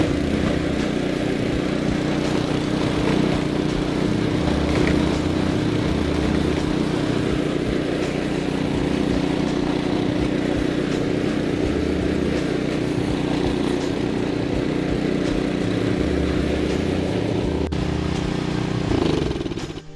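A PowerSmart 212cc two-stage snow blower engine runs steadily and loudly for the whole stretch, with a constant droning hum and a slight change in tone near the end.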